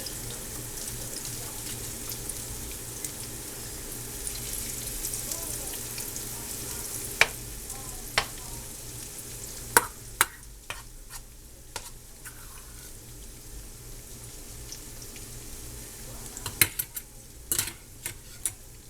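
Canned salmon fritters fry in a skillet, giving a low steady sizzle with scattered sharp clicks and taps of utensils against the pan, growing busier toward the end.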